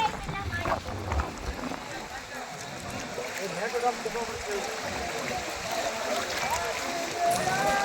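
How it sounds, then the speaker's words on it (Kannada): A boat moves along the river at Hogenakkal, its hull sloshing through moving water under steady wind rumble against the microphone, with indistinct voices in the background. "ಇವರು ಬೋಟ್ ನಡೆಸುವವರು ಸ್ವಲ್ಪ ಕಷ್ಟ ಬಿದ್ದು ಮಾಡ್ತಾ ಇದ್ದಾರೆ."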